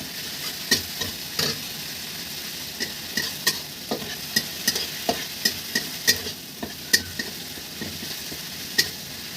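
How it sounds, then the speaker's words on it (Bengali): Ground spice paste fries in oil and is stirred with a spatula in a pan, making a steady soft sizzle punctuated by a dozen or so sharp, irregular scraping clicks at close range, with no talking. "সেই মশলাগুলো আমি দিয়ে দিয়েছি তেলে। এখন এটাকে একটু কষিয়ে নেব"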